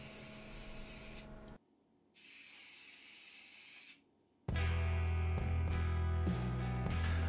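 Spray gun applying gray-green paint to a wooden trout swimbait, delivering several close hissing bursts separated by short pauses, the last ones louder and mixed with a steady compressor-like drone.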